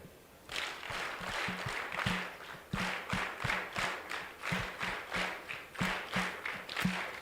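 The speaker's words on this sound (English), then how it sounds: "Give yourselves a big round of applause" A crowd at an aviation business awards ceremony claps in unison, the rhythmic hand claps building into steady, loud applause that fills the room for several seconds with no talking over it.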